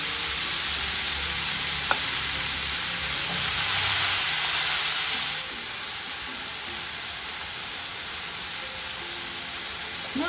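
Mushrooms fry in avocado oil in a pan, giving a steady, close hiss of sizzling that swells slightly mid-way, then settles to a softer, even crackle with an occasional faint clink.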